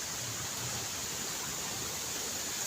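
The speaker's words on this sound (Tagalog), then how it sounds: "Lumakas ang agos ng tubig oh." Strong current of a forest stream in the Cavite mountains rushes steadily and close by, an unbroken hiss of flowing water with no voices.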